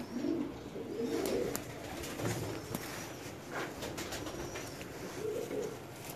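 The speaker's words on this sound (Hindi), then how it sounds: "ये डब वाला कबूतर है।" Dub pigeon cooing in several soft, rolling low phrases spaced a few seconds apart, close but fairly quiet, with light background noise.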